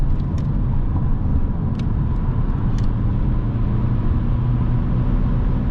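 An Alfa Romeo 159 1.9 JTDm 150 HP diesel accelerates on the highway, heard from inside as a loud, steady low engine drone and road rumble, with faint brief ticks above it.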